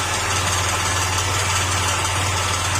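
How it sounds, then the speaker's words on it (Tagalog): A Honda Click 125 scooter engine idles with an abnormal rattling, clanging noise: a steady, close mechanical hum with a rapid metallic knocking throughout, and no talking. "Yung ingay ng makina ang gagawin natin."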